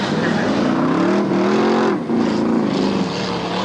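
Mud bog racing vehicles at a 1994 Lake Odessa, Michigan event give off a loud, steady engine roar with pitch rising and falling as they run, close and continuous with a brief dip midway.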